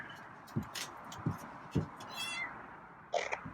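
A cat gives a few short, soft meows spaced apart, with faint scratchy noises between them, fairly quiet in a calm room.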